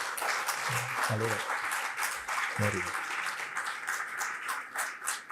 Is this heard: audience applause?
yes